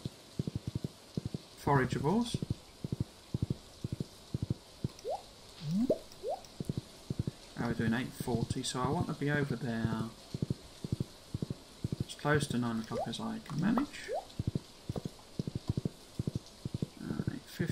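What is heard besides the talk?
horse hooves clip-clopping while riding in video game Stardew Valley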